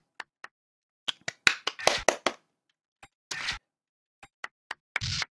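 Scattered hand claps, some single and some in quick bursts of two or three, sharp and fairly close against a quiet background, with a brief noisy rustle near the end.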